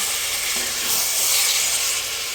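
Washed chicken hits a pan of hot oily spice paste for a desi chicken curry, giving a loud, steady, close sizzling hiss that holds for a couple of seconds without speech.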